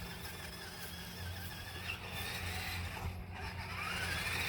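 A Tamiya CC-01 Mitsubishi Pajero radio-controlled car runs over grass, its thin electric motor whine rising and falling at moderate distance, with a brief squealing pitch sweep near the end.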